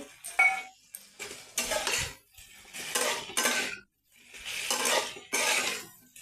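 Bell peppers and potatoes are stirred in a metal pan, the utensil scraping and clinking in repeated bursts with short pauses between strokes, close and moderately loud, with no voices.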